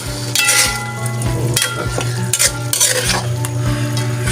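Spicy chicken with sliced bird's eye chili is stirred in a sizzling pan, with steady frying hiss beneath repeated scraping and clinking strokes of a utensil against the metal.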